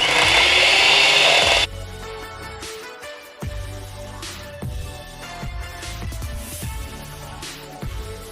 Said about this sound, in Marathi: असंच मी एक 5 ते 7 मिनटं पूर्ण क्रीमी टेक्स्चर होस्तवर हे फेटून घेणार आहे.